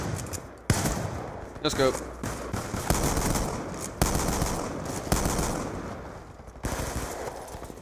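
Rapid machine-gun fire in Black Ops 2, loud bursts of automatic shots with sharp individual cracks repeating through the clip while a player briefly talks over the shooting.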